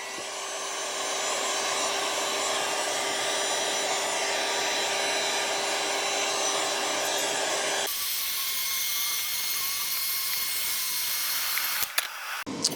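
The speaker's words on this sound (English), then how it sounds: "Now I'm going to take my heat gun and run it back through again." A heat gun blows over a resin craft with a steady, loud whooshing hum that runs for several seconds, then stops abruptly with a brief clatter after it cuts off.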